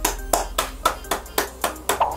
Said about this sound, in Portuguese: Palmas para Mazzaropi!